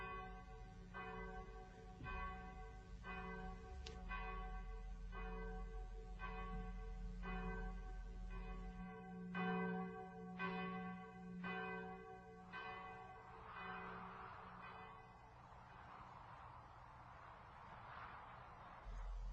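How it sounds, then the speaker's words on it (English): A village church bell tolls repeatedly in a slow, regular rhythm, rich ringing tones overlapping as each strike decays; no one speaks. "the solemn tolling of Harworth church bell spoke forth the fact of her death"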